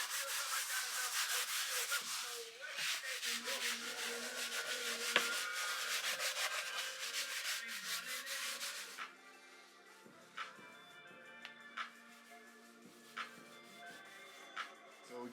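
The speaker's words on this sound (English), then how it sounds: "I'm just gonna lightly sand this." Light hand sanding on the interior plastic trim of a Honda Civic EK hatch, a fast rhythmic scratchy rubbing that runs steadily up close, then breaks into sparse separate strokes and taps.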